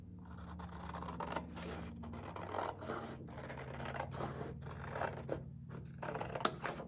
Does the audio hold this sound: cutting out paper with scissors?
yes